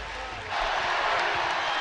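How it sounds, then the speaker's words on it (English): A basketball arena crowd at a women's college game against UCLA swells into a broad roar of cheering, rising suddenly midway and holding loud and steady, distant and diffuse with no distinct voices. "And now the crowd gets into it."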